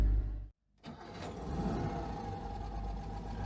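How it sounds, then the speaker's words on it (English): A Citroen 2CV engine cuts out briefly, then starts up and settles into a steady, low idling rumble heard up close. "Oh yeah, this is such a sweet engine."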